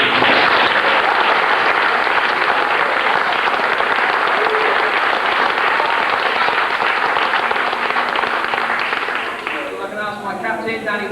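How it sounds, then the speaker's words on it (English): Sustained applause from a crowd at a youth football end-of-year presentation, dense, loud clapping that holds for about nine seconds before thinning out, with a voice speaking as it fades. "I want to give a big applause."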